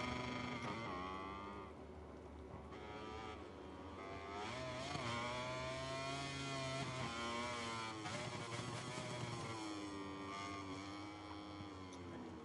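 Motorcycle engine in MotoGP 23 rolling out of pit lane at Aragon, a steady loud engine note with rising and falling revs and harmonic tones, continuous throughout.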